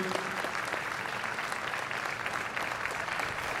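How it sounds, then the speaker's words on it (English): An audience gives a steady, dense round of applause at a university athletic hall of fame induction ceremony, an even crowd clapping held at moderate level throughout. "how about a big round of applause, folks, for Tyrone Williams too"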